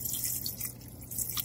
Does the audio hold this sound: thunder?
no